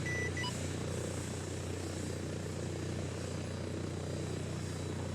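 A helicopter flying in the video game ARMA 3, giving off a steady low rotor drone with a constant engine hum that holds at an even level throughout, with no voices over it.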